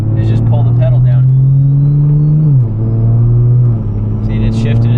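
A big-turbo BMW 340i with an eight-speed automatic transmission drones at steady engine pitch, then drops sharply as it upshifts twice while cruising, with someone talking over the cabin rumble.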